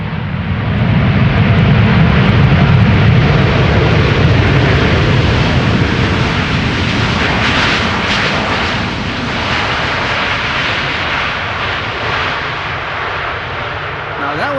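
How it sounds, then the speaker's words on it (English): An American Airlines airliner, arriving from Philadelphia, lands at Amsterdam Schiphol with engine thrust reversal, a loud, broad rumbling roar that swells early and then holds steady with a rough, booming low end throughout. "That was a bit of reversal usage"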